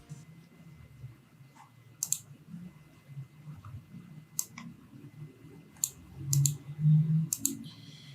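Mouse clicks selecting a time slot in an online calendar, a few sharp isolated clicks spread over quiet room tone with low background murmur.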